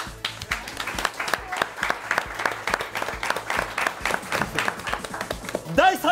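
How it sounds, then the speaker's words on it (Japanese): Sparse, uneven hand claps from a small group at a live-streamed Puzzle & Dragons team battle, a light scattered patter that ends as a voice starts speaking. "拍手がパラパラ。"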